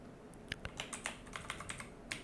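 Light, quick typing on a computer keyboard, a brisk irregular patter of soft key clicks heard alone and close.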